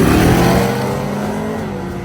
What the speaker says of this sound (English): The Malibu made a good lick, but it did chatter the tires a little bit as it left the starting line